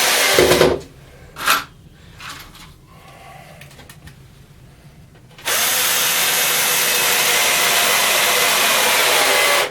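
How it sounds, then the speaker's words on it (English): A power drill drives screws into scrap wood while a saw stand is being built: a few short bursts and bumps, then a long steady whir that runs loud and close for several seconds. "I'll just put a couple of screws in that just to hold it in place"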